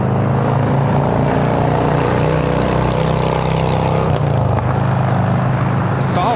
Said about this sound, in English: We're looking at Asiana Airlines 201 taking off to Seoul on the A380.